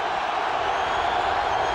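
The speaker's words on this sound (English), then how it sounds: "the crowd volume turned up for Elway" Steady roar of a big stadium crowd at a 1998 AFC Championship football game between Denver and Pittsburgh, a continuous distant wash of voices with no distinct cheers rising out of it.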